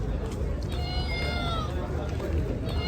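A cat gives a drawn-out meow close by, rising and falling over about a second, against steady room noise with faint voices in the background.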